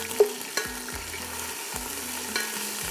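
Ginger garlic paste sizzles in a hot pan while a spoon stirs it, giving a continuous frying hiss broken by regular scraping strokes and light knocks, close and fairly loud, with no talking.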